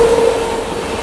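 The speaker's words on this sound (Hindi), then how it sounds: "WP7 ये निकला है सबरी एक्सप्रेस।" The Sabari Express rolls past close by behind a WP7 locomotive, loud steady rail rumble with a brief wheel squeal near the start, no talk heard.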